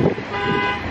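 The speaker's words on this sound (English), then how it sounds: "whose car alarm is going on?" A car alarm sounds nearby in a parking area, a steady tonal blare under faint background noise.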